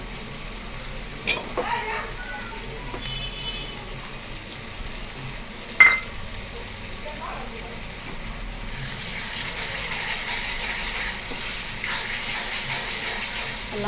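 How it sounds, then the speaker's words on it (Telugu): Tomatoes with ginger paste fry in a pan for a chicken gravy, a steady soft sizzle with occasional stirring scrapes and one sharp knock, close and moderately loud, growing stronger toward the end. "టొమాటోస్ మంచిగా మెత్తగా మగ్గే వరకు టొమాటోస్ని కుక్ చేసుకోవాలి."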